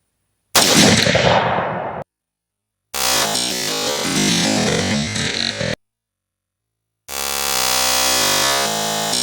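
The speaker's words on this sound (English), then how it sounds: "First time firing a 22-250 ever." Three loud bursts of gunfire from a .22-250 AR10 rifle, each a sharp crack with a sustained ringing roar, separated by short silent gaps.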